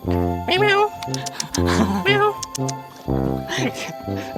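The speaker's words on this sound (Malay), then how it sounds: "Banyaknya kucing." Several cats meow repeatedly at close range in short, rising and falling calls, with people talking around them.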